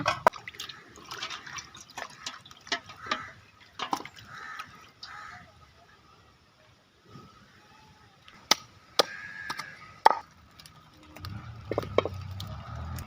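Goat legs being washed in water and then chopped, giving intermittent drips, splashes and sharp knife or cleaver knocks at close range, with a low rumble near the end.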